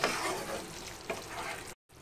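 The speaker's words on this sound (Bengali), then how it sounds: "সবগুলোকে মিশিয়ে নিচ্ছি।" Bengali cauliflower and peas curry with ghee being stirred in a hot pan, steady sizzling and frying with scraping stir strokes for nearly two seconds before a brief drop to silence, close and fairly loud.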